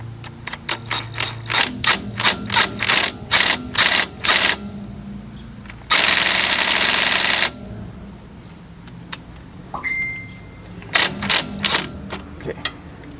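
An impact wrench hammers at the strut nut on a Volvo 850/S70/V70 front strut, firing in a string of short, sharp rattling bursts, then one longer sustained run, then a few more quick bursts, close and loud.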